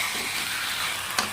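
Chicken sizzles in a frying pan, a dense close hiss with a faint scrape of stirring and one brief sharp clink near the end.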